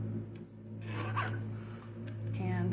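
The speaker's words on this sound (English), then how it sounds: "So I'm going to cut this just on this little trimmer." A small paper trimmer slices through card stock for a fun-fold party card, giving a steady rasping, zipper-like slide of the blade that runs for a couple of seconds over a low background hum.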